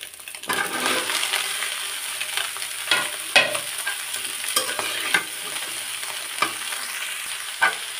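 Cauliflower is stir-fried with fried egg in a pan, giving a steady close sizzle with repeated spatula scrapes and clacks against the metal every second or so, and no voices.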